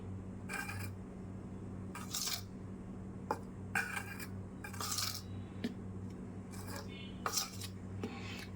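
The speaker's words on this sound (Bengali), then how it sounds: "এক চামচ কর্নফ্লাওয়ার দিয়ে দিলাম এটা এইভাবে মিশিয়ে নিতে হবে কর্নফ্লাওয়ারটা" A spoon mixes salt and cornflour into dough for Mughlai paratha, making short bursts of scraping and clinking against a bowl, repeated about every second, quiet over a low background hum, with no speech.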